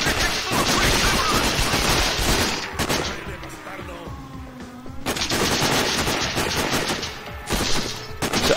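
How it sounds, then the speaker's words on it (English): Sustained bursts of automatic gunfire in the shooter game Sniper: Ghost Warrior, loud and dense, with a brief lull of tonal effects midway before heavy rapid fire resumes. "I seem to be shot at quite a lot"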